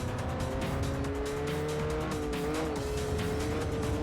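Race car in Forza Motorsport 4 braking hard into a corner, engine droning continuously as tires squeal in sustained, wavering screeches throughout.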